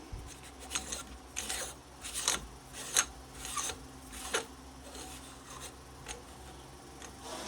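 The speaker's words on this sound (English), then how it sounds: "So then just get this threaded for now into the back of your receiver." An AR-15 buffer tube is threaded into the back of the receiver, producing a series of close, dry scraping and rasping turns in irregular strokes, with no talking.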